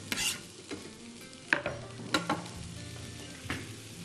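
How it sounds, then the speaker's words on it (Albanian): Leeks sautéing in a pan for a chicken and cornbread dish, a steady sizzle broken by close clattering stirs of a utensil against the pan at irregular intervals. "Sërisht, një kaurdisje e duhur."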